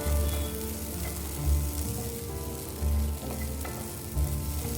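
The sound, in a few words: raw papaya stir fry sizzling in pan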